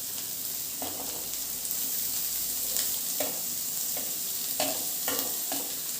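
Cabbage and carrot stir-frying in a pan, a steady hissing sizzle broken by several sharp scraping strokes of a spatula as the vegetables are mixed.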